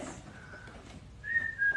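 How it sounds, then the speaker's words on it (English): A person whistles two faint, thin, steady tones, a short one and then a slightly higher, stronger one, against quiet room hiss in an old historic building. "So here we're gonna go whistle."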